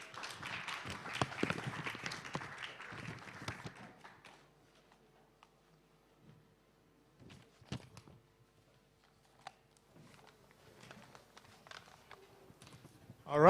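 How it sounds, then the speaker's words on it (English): Applause for the panelists at a live-streamed panel event, with a fairly faint patter of clapping for the first few seconds that dies away into near silence, leaving scattered soft knocks and movement. "Please, a big round of applause for the panelists."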